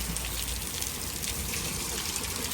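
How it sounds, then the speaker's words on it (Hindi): Very heavy rain pours down steadily outdoors beside a road, a dense, continuous broadband hiss with no pauses or voices throughout. "बहुत ज़्यादा तेज बारिश है उधर।"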